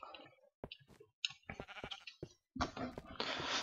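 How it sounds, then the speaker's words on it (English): Sheep bleat in the Minecraft video game, a few short wavering calls heard softly among scattered clicks and game noises, ending in a louder burst of noise. "I just heard... Sheep? Sheep?"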